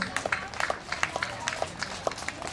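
Applause from teachers, parents and dignitaries at a school children's march past, heard as a steady patter of many hands clapping at moderate distance with faint crowd noise underneath.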